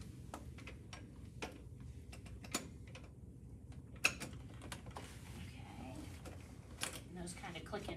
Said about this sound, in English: those kind of click into place